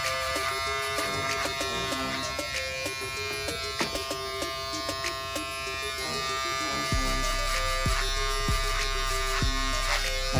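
An Andis Finale electric clipper buzzes steadily while touching up the bottom of a taper haircut, a continuous close hum throughout with a slightly heavier drone toward the end.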